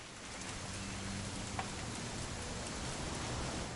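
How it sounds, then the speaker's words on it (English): Steady rain falls as a continuous close hiss across a wet surface, with no voices and only a faint tick or two breaking the even wash of drops. "It's gonna rain the whole weekend, isn't it?"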